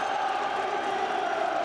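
A football crowd at a Spurs v Liverpool match roars in a steady, loud wash of massed voices, anxious for the final whistle, continuous throughout the short stretch.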